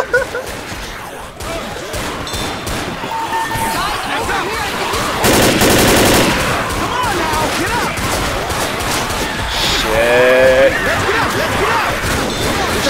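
Dense gunfire from the video game Left 4 Dead, loud and continuous with rapid bursts and a stretch of heavy sustained shooting, mixed with game effects while players talk over it.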